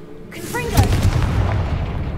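Confringo fire spell blasting in a video game: a sharp burst near the start sets off a loud, roaring explosion that rumbles on and stays dense and steady to the end.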